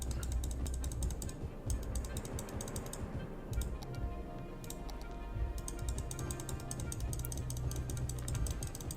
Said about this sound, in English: You can hear me just wailing on this button.